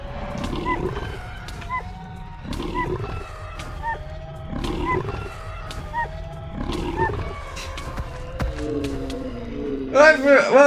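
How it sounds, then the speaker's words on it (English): Mutant wolf from Minecraft Bedrock Edition in a mob battle, giving repeated rough roaring growls in bursts, with other creature cries and game sounds mixed in, followed by a higher squealing call near the end. "the mutant wolf attacks everything."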